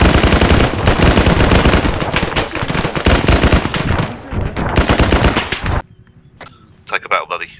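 Rapid automatic gunfire in ARMA 3, aimed at an enemy base: loud, dense bursts crackle nonstop for about six seconds, then break off into a quieter stretch with a few scattered distant shots.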